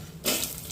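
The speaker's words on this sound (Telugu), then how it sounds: "ఒక గ్లాస్కి 2 గ్లాసుల వాటర్ పోసి వేసానండి." Water poured into a cooking pot of fried chana dal, onions and mustard seeds for upma, a short splashing gush starting suddenly and running steadily.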